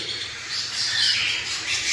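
Cockatiel chicks give continuous raspy, high-pitched squawking calls while a parent feeds them, loud and close, rising and falling in intensity over a couple of seconds.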